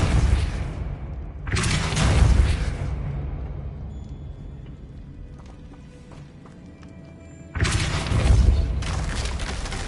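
The Depulso spell cast in a video game, heard as two loud booming bursts of broadband rushing force several seconds apart, with quieter ambient rumble and faint tonal noises between them.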